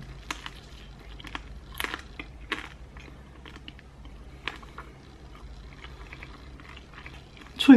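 Crispy-bottomed homemade pizza, its base pan-fried in oil, being bitten and chewed up close, with scattered crunchy bites and soft chewing sounds over a quiet kitchen background.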